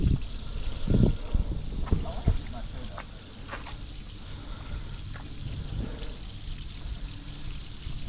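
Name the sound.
water pouring out of a boat's drain plug hole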